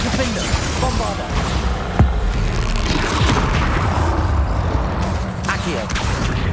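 A Bombarda spell blast in Hogwarts Legacy, a loud, close explosive boom amid continuous rumbling combat noise, with shouted spell names from a voice over the action.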